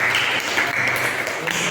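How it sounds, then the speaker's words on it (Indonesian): Audience of teacher-training students in a university classroom applauding a presenting group, a short steady burst of many hands clapping together at moderate loudness. "Tepuk tangan kelompok 1."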